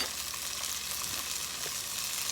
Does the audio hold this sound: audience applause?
no